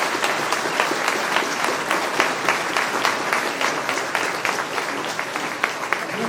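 An audience claps warmly at a political rally meeting in Montescot. The applause is dense and continuous, crowd-sized and close, and holds steady throughout without speech over it.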